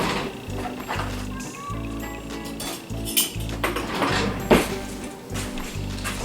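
Metal spoon and bowls clatter and clink in a home kitchen while sugar and butter are creamed for banana bread, with irregular close knocks and scrapes over a steady low hum.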